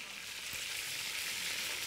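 Chicken thighs frying in a pan as the fat renders, a continuous loud sizzle with a hiss that stays steady throughout.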